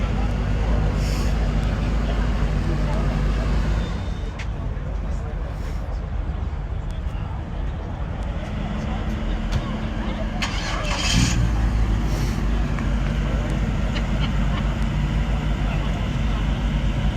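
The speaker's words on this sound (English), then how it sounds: "Kip's leaving in the Porsche" A Porsche pulling away during a classic car walk-around, a continuous low engine rumble throughout with steady road and traffic noise, and people talking nearby at times.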